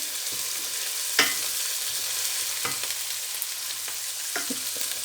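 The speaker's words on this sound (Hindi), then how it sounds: "यहाँ मैंने शामिल कर दिया है लहसुन और सब्ज़ मिर्च, वो डालिए।" Garlic and green chili fry in a hot pan for a potato and eggplant dry curry, giving a steady bright sizzle with occasional sharp clinks from stirring.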